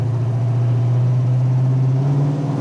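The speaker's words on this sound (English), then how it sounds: "Just roast the tires." A 1970 Mustang Fastback's big-block V8 drones loud and close at a steady, deep pitch, holding an even rumble throughout without any clear rise or fall.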